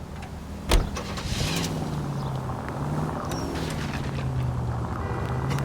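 A car being driven in the LA Noire video game, steady engine drone with shifting pitch as it accelerates, one sharp thump near the start, continuous and fairly loud with no speech.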